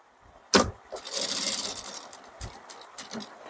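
A sewing machine stitching uniform trousers, one sharp clack, then a short whirring run of stitches and a few lighter mechanical clicks, close and fairly quiet.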